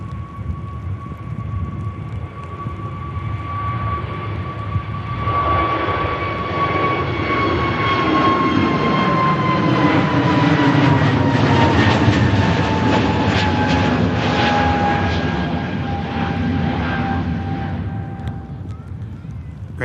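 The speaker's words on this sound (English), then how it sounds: "EasyJet on the takeoff roll." An EasyJet jet airliner roars through its takeoff roll at Manchester Airport, a broad sustained engine rumble with a high whine that swells toward the middle and holds, heard from a distance outdoors.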